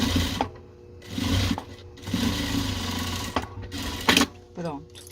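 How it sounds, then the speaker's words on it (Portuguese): A sewing machine stitches a seam across patchwork fabric scraps, its motor whirring in several bursts separated by short pauses, close and fairly quiet, with brief bits of talk in between. "Vou passar outra costura."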